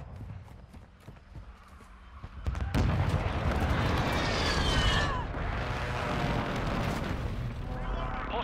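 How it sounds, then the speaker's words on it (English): A hostile airstrike in Call of Duty: Modern Warfare II begins with a few scattered clicks and shots, then breaks into a sudden loud, sustained roar of blasts and rumbling that keeps going to the end. A voice speaks over the start. "Hostile airstrike incoming."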